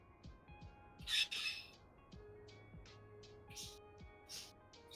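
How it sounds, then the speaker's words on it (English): Several harsh bird squawks from a city-builder game, Cities: Skylines 2, burst out loud and close over a quiet ambient backdrop, with scattered softer chirps and calls between them and no talking. "Why are my birds being so loud?"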